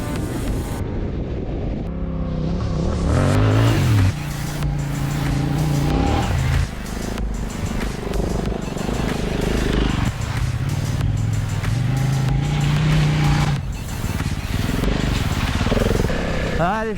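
A Yamaha T7 adventure motorcycle on a dirt trail in Portugal revs hard with rising and falling engine pitch, heavy wind buffeting and rider voices talking over it.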